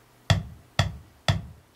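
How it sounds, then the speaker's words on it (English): Four-on-the-floor kick drum from a software acoustic drum kit played at low velocity, with evenly spaced thuds about half a second apart, soft and dry, with nothing else heard. "I'll choose the kick. I'll put in a 4 on the floor"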